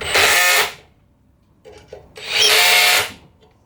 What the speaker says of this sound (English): I'm just going to use my drill with a clutch on it